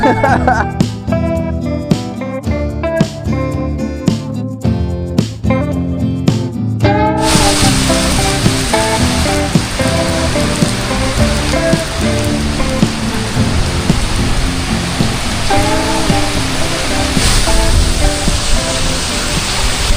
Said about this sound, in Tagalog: kaso nga po ay lumakas po ang ulan